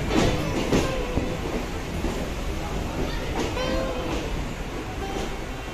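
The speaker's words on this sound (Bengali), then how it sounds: "ব্যারাকপুর লোকাল দিয়ে দিয়েছে আর এখন আমরা ট্রেনে উঠবো" A Barrackpore local train stands at a station platform, giving a steady rumbling rail drone with a few metallic clanks and squeaks, while people talk over it.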